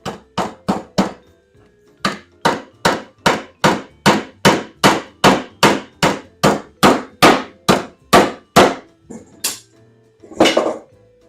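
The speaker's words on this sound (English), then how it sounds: "Beat all these nails into submission." A hand hammer drives nails into pallet wood for apple crates, striking about twenty sharp, ringing blows in a fast steady rhythm close by, with one short pause and a last heavier clunk.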